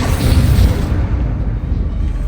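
Bombarda spell explosion in the Hogwarts Legacy video game, a heavy low booming blast that fills the moment and then rumbles off into a fading roar.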